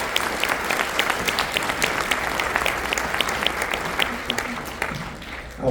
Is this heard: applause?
yes